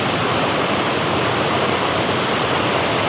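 A nice cascade of a waterfall at a photography spot roars in a steady, dense rush of falling water, close and unbroken throughout, with no voices.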